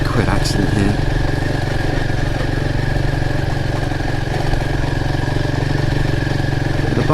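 A motorcycle engine drones steadily while riding a rural green lane, a loud, continuous close-up rumble with a mechanical clatter and no clear revving changes.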